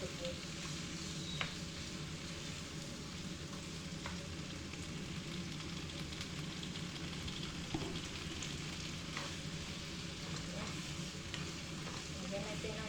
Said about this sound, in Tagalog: Yan ang ating special na stir fry octopus.